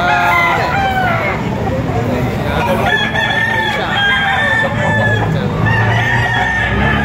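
Roosters crow repeatedly at a chicken auction in Padre Garcia, Batangas, several overlapping cock-a-doodle calls rising over a busy crowd murmur, loud and near, with clucking and a bidder's voice in the background.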